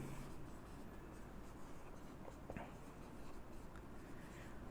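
Marker or chalk scratching steadily across a board during a Hindi-language physics class on electric potential, a continuous close scraping texture with a few brief sharper strokes and no talk.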